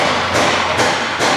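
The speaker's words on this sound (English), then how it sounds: "as soon as I start talking, they start hammering" Hammering in the background gives loud, evenly spaced heavy strikes that ring out about every half second, nearby and with no talking.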